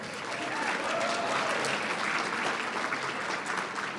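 Steady audience applause fills a student awards night hall, a dense continuous patter of clapping hands holding even and fairly loud throughout, with no voices rising above it.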